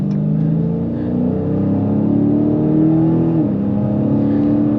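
A 2022 Dodge Challenger Scat Pack with a 6.4L V8 accelerates, heard from inside the car: a loud, steady engine drone whose pitch climbs and briefly dips between gears, with no talking over it.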